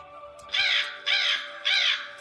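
A crow in an animated Panchatantra folk tale caws three times in a steady rhythm, each call loud and harsh with brief gaps between, over a faint background hum.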